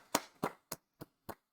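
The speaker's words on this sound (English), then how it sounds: "Let's all give a warm applause to PAYNE VANTILBURG," Several loud, separate hand claps spaced about a quarter second apart, a sparse round of applause welcoming a guest onto a college and pro football show, with no talking.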